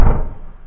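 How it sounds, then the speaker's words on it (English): A door closes with a single loud, close thud whose low boom fades quickly, with no voice. "let me close the door"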